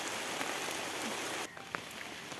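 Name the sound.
rain falling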